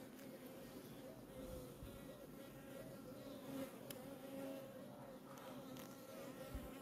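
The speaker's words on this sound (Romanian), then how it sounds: "Ia priviți cât albine aici pe rame." Honey bees crowd the frames of a beehive, producing a continuous, quiet droning buzz with overlapping tones that waver slightly.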